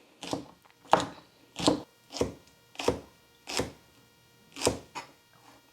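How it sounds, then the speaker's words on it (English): A knife chops through okra on a board in about seven separate slicing cuts at an unhurried, fairly even pace, close and moderately quiet. "So I'm just gonna start chopping these"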